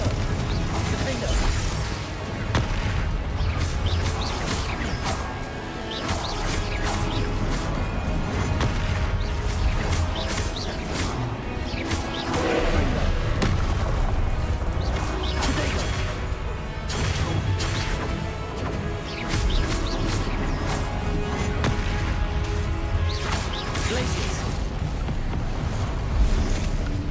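Confringo spell blasts and explosions in the video game Hogwarts Legacy pound continuously in a loud, dense battle, with repeated crashing impacts and crackling bursts layered over game music and a speaking voice.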